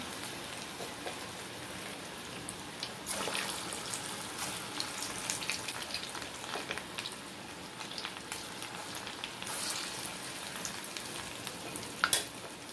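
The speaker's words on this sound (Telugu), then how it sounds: "ఇందులో తాలింపు పెట్టానండి" Spices sizzle in hot oil as tempering is poured into a dish of curd vadas, producing a continuous crackling fry with louder bursts and occasional spikes, moderately close and without speech.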